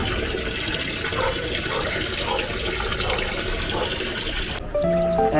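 Tap water runs hard and steady into a container being filled for hand laundry at home, a loud continuous gush that shifts in tone near the end as the fill changes.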